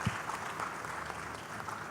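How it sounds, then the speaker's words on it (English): A forum audience at a diaspora dialogue event applauds an Indian government minister, a brief, fairly faint patter of clapping across the room. "A round of applause, please."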